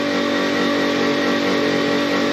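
A farm tractor engine runs hard and steady at close range, a loud continuous revving drone that holds without a break and with no voices over it.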